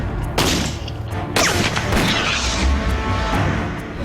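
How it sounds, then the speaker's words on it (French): Gunshot fired at an oxidizer sample during an explosives test, two sharp loud cracks with a dense rumbling outdoor aftermath, no talk. "je vais tirer sur le comburant"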